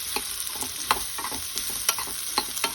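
Radish chutney frying in a pan is stirred with a spoon, giving a steady soft sizzle with irregular scraping clicks and taps of the utensil against the pan, close and without voices.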